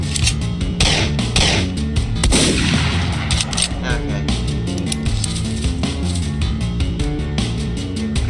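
Gunfire in the video game Ashes of Equestria, loud, dense and continuous, with repeated sharp cracks over a busy, saturated game soundscape, no speech.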